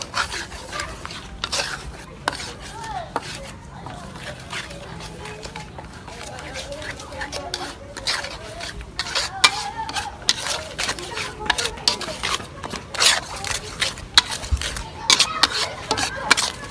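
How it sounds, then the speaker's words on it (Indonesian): Spice paste for fried rice is stirred in a pan with a utensil, giving repeated irregular scraping and rasping strokes over a sizzling background, close and moderately loud, with people talking throughout. "Ya, semua bumbunya kita campurkan semuanya."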